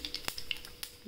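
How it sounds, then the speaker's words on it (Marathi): Mustard seeds crackle and pop in hot oil for sprouted green gram curry, a few sharp, close snaps scattered over a soft background sizzle. "आता आपण तेल तापत ठेवलं आहे, त्याच्यात आपण मोहरी टाकूया। मोहरी तडली"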